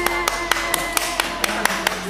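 A child claps hands in a steady run of about ten quick, even claps, close and clear over a faint background hum.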